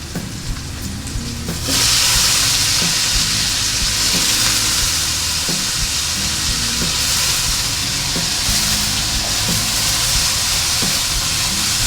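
Thai eggplants tossed in hot oil in a wok for a spicy stir-fried squid dish: a loud, steady sizzle that flares up suddenly and holds, with faint rhythmic scrapes of stirring underneath.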